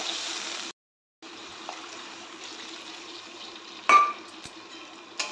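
Water poured from a mixing jar into a pan of jackfruit seed curry, a steady close pour broken by a short pause, then a clink of the jar against the pan near the end.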